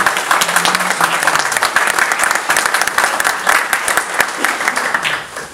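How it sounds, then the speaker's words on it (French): An audience at a Sainte Barbe ceremony for the Serémange firefighters applauds them with dense, steady clapping from many hands that keeps a constant level and fades slightly at the end. "Donc vous pouvez les applaudir et les remercier."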